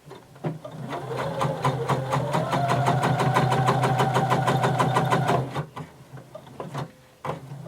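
A sewing machine sews a long basting stitch on denim. It gives one steady, close run of rapid mechanical ticking for several seconds, then stops, leaving a few small handling sounds.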